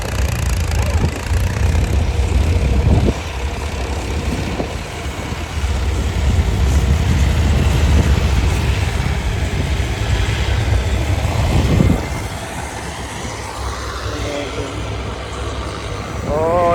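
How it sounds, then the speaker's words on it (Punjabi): Steady loud diesel engine rumble of two tractors running nearby on a farm in Punjab, continuous throughout, with a shift in tone partway through. "ਦੋ ਟਰੈਕਟਰ ਉਧਰ ਚੱਲਦੇ ਆ ਇੱਥੇ ਇੱਧਰ ਚੱਲਦੇ ਆਪਣੇ ਵਾਲੇ"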